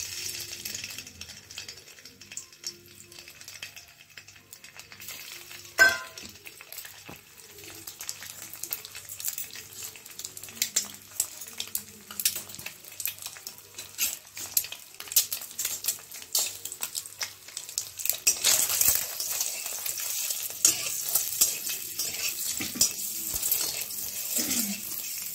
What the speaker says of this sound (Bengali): অল্প সর্ষের তেল নিয়েছি আর এই ডিমগুলো একটুখানি হলুদ মাখিয়ে নেব, দিয়ে পরে ভেজে নেব এটাকে।